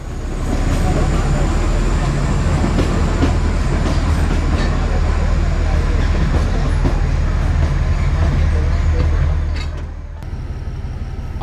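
A Kangra Valley Rail train rumbles loudly at Kangra railway station with a steady low engine drone and clattering carriages. The noise holds throughout before briefly dropping near the end, and voices talk over it.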